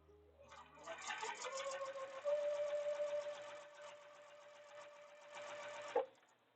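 A sewing machine runs after being rethreaded, whirring in a fast rhythmic stitch that speeds up, holds steady, then slows and stops with a final clunk, close and moderately quiet.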